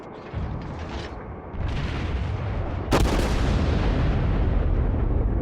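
Naval gunfire in World of Warships: a continuous roar of battle noise builds in steps, then a sharp, loud broadband blast near the middle gives way to a sustained heavy rumble of artillery salvos.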